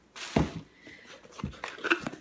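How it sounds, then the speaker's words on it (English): A dog barks a few times indoors at visiting friends, giving several sharp, fairly close barks separated by short pauses. "she barks at all of my daughter's friends"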